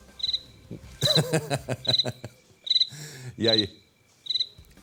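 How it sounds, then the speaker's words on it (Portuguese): A cricket chirps in short, evenly repeated pulsed trills, close and clear, with a voice breaking in between the chirps. "Agora, entendi o porquê do grilo"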